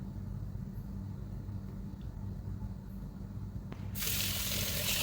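Raw mangoes being washed by hand in water, a low steady sloshing that swells into a louder rush of running water near the end.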